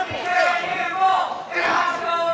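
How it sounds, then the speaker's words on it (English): A wrestling crowd at the MWO Bunkhouse Brawl 2019 show, split between two wrestlers, roars and chants in loud, close waves that surge, dip briefly, then swell again. "One side cheering for Cody, the other for Cannonball."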